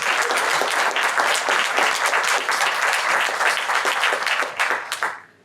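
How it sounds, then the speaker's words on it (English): An audience applauds a speaker at a public conversation event on the NJ Reparations Council, dense sustained clapping from a full room that holds steady for several seconds, then fades quickly at the end. "Please clap for Dr."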